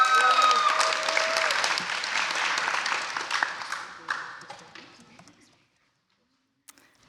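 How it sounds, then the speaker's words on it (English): Audience applause at a startup founder showcase, a dense burst of clapping and some cheers that is loud at the start and then thins out and fades to near silence over about five seconds. "Give me another round of applause for our next founder, Miss Autumn Washington."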